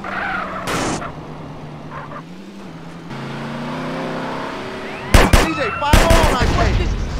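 Car engine and tire skids in a GTA San Andreas drive-by from a 2002 Mitsubishi Lancer Evolution VII give way to a few sharp, loud gunshot bursts near the end, with voices briefly heard.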